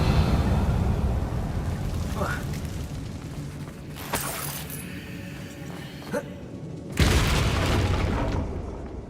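Explosion spells cast in the Hogwarts Legacy video game, with sharp booming bursts at about four and seven seconds over a steady rumbling game soundscape, plus small pops and clinks in between.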